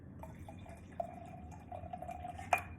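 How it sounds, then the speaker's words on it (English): A drink poured into a glass, a thin trickling stream with a faintly rising tone as the glass fills, ending in a small clink, close and quiet with no voices. "pour them up, okay?"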